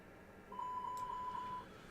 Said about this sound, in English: This is a cargo area smoke alarm test button.